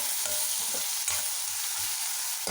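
Thinly sliced bitter gourd and onion pieces frying in a pan, a constant hiss under regular scraping stirs at a quick rhythm, close and alone.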